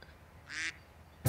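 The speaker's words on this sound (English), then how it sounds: "An area of park, and it usually has ducks in it." A duck in a wetland park with ponds and reeds gives a single short, nasal quack, moderately near, followed by a brief louder burst at the end.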